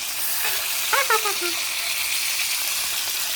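A steak sizzling in a pan just after flipping, a steady close hiss with a brief clatter of a utensil and a short vocal sound near the middle.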